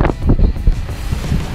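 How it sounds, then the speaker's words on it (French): Wind blows across a sailboat sailing at sea between Guadeloupe and Martinique in a 17-knot breeze gusting to 19, with steady loud buffeting and rumbling wind noise on the microphone throughout. "on a un vent à 17, ça rafale à 18, 19"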